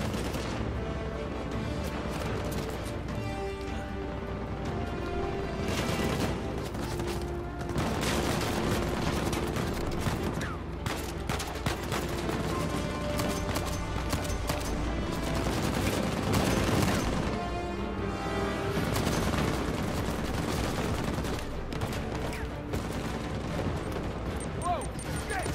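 Gunfire erupts in Uncharted 4 during a firefight with pirates: dense, rapid bursts of shots and booms layered over a constant rumbling backdrop, with a voice speaking over parts of it.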